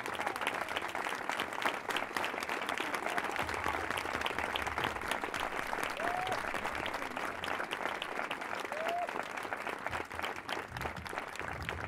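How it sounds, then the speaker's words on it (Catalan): A concert audience applauds steadily for a performer at a pop and rock show by a philharmonic band. The clapping is dense, sustained and fairly distant, with a couple of faint whistles. "A veure, Francesco, fort aplaudiment per ell"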